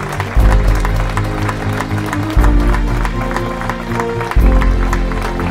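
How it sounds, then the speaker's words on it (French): A crowd claps at a tournament gathering in Frontonas, a busy wash of applause that rises in waves over a loud, pulsing music track. "Simplement une salle d'applaudissements"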